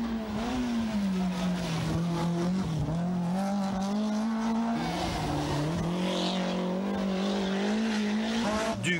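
A powerful BMW rally car races at Rallye Monte Carlo on a snow-free stage, its engine roaring loudly and close with shifting pitch as it revs, changes gear and drives through corners, with some tyre noise.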